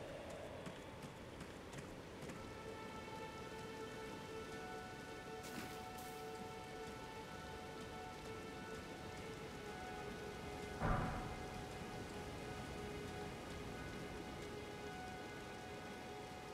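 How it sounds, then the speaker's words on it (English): Rain falls steadily in Elden Ring as a soft, even hiss throughout, with a single short thud or rumble about two-thirds of the way in and faint tonal game ambience underneath. "See, now it's raining, so they can't catch me"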